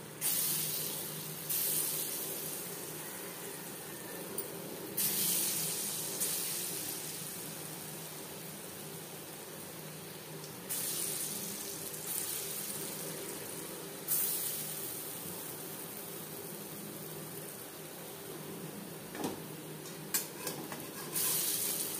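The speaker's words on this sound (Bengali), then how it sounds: "বড়া ভাজবার জন্য বেশ খানিকটা রিফাইন্ড অয়েল গরম করে নিয়েছি" Chana dal paste fritters frying in hot refined oil make a steady close hiss and sizzle, with bursts of brighter spitting crackle rising and falling throughout.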